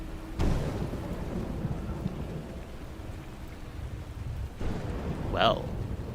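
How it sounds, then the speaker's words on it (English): Thunder cracks and rumbles during a storm in V Rising, with two sharp strikes followed by a rolling low roar over steady rain, and a brief high effect near the end. "Lightning strikes."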